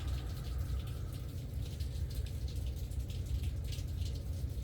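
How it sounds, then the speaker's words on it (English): Steady rainfall patters continuously, a dense hiss with scattered drips, heard muffled as if from indoors. "It is pouring the rain outside."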